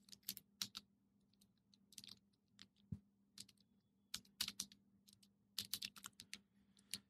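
Keys clack on a computer keyboard as text is typed in a design app, irregular bursts of close, crisp taps with short pauses between words.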